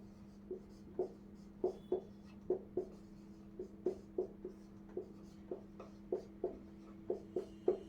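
Pen strokes mark a paper map of the Narayanpur district beside the Abujhmarh hill, a quiet series of short, regular scratching taps close by over a low steady hum.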